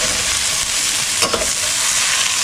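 Beef browning in a pot for a one-pot red wine recipe, sizzling loudly and continuously with a short scrape of stirring midway and no talking.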